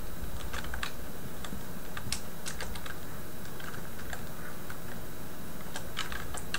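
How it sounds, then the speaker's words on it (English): Keys clatter on a computer keyboard as text is typed into a web form, with quick irregular clicks and short bursts over a steady background hum. "and we'll type in"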